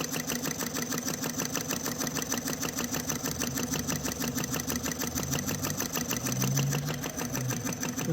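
A small engine runs and revs at varying speed, a steady rapid mechanical chatter that slows and quickens, close and moderately loud with no voices.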